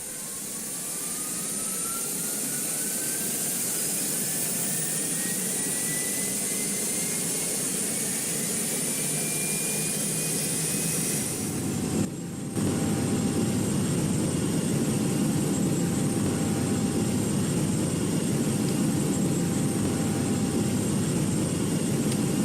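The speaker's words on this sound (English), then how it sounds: "Engine starting in now." The jet engines of an A321neo in a flight simulator spool up steadily: a rising whine climbs over a broad hum. After a brief dropout, the deeper engine roar swells to a loud, continuous drone.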